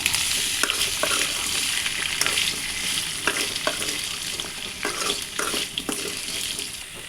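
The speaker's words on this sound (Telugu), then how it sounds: "మొత్తం ఒకసారి గరిటెతో బాగా కలుపుకోండి." A ladle stirs raw plantain pieces frying in a pan, producing a constant close sizzle punctuated by repeated scraping and clinking strokes.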